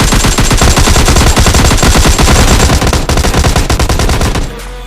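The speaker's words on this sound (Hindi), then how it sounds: "तो मैं एकेएम से एक बंदे को नॉक करता हूँ।" Rapid automatic AKM rifle fire in the PUBG Mobile Lite video game, a loud, dense stream of shots in quick rhythm that stops abruptly near the end.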